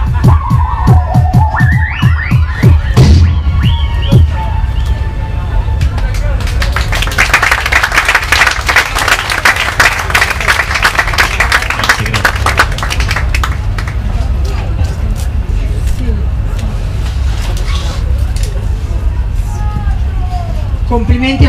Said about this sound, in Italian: quindi ancora un applauso per loro due